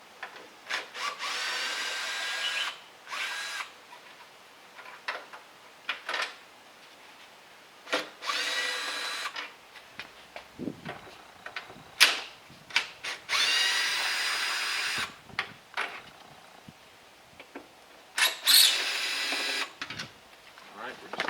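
A power drill backs out the four Phillips screws holding a Jeep Wrangler JK tail light in intermittent whirring bursts of a few seconds each, separated by quiet gaps, close and fairly loud.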